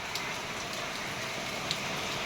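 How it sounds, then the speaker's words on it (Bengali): Steady, dense rain pours outside with no pauses, a continuous close hiss with a few brighter drop hits. "এই দেখো বৃষ্টি কেমন দেখো,"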